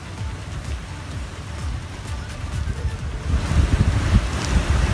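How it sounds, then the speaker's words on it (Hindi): Strong gusting wind roars steadily outdoors during a storm with rain in Ghaziabad, a broad rushing noise that swells louder toward the end, with no voices. "तेज़ आंधी के साथ में बारिश का दौर यहाँ पर चला"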